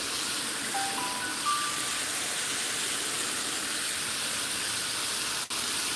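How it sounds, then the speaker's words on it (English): Water fills a Gardyn hydroponic tank, filled up to the line, as a steady near rushing hiss with faint high tones early on and a short dip near the end. "Going to add this water all the way up to the line."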